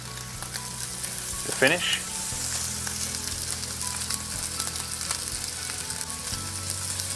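Butter hits a hot pan beside a chuck eye steak, flaring into a sharp hiss that settles into a steady, close sizzle; a short spoken phrase passes early on.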